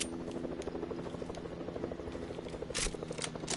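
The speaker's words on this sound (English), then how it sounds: "I see a helicopter." A helicopter in the video game Fortnite drones with a steady rotor hum that fills the whole clip, with small game sounds and shots scattered on top of it.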